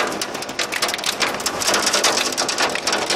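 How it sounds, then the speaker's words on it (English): Heavy rain mixed with hail pours down outside a house during a flooding storm, a loud dense roar with crackling impacts on surfaces, close and continuous with no talk. "It is definitely coming down, and it is hailing now."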